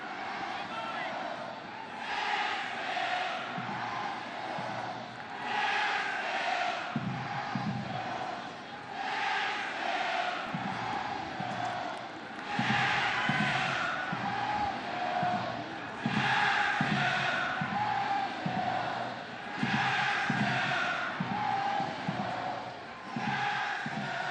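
A capacity crowd at First Tennessee Park roars during a Nashville SC vs Atlanta United 2 soccer match, with rhythmic chanting and repeated drum-like thumps rising in waves, while a commentator talks over it.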